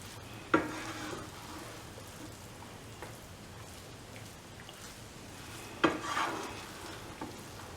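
Eggplant fried rice being stirred in a pan over a low flame: a steady sizzle runs throughout, broken by two sharper scraping bursts of the spatula, one near the start and one toward the end.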